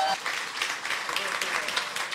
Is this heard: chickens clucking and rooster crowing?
no